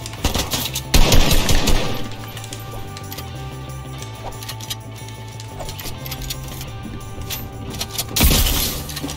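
Gunfire in the Fortnite video game comes in rapid bursts, with a loud volley at the start, lighter scattered shots in the middle and another heavy burst near the end.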